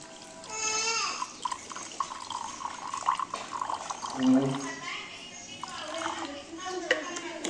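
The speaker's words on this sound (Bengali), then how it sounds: "চলো জলটা দিয়ে দিই।" Water is poured into a food mixture of spices and Hajmola, a steady liquid splash heard close by beneath ongoing talk.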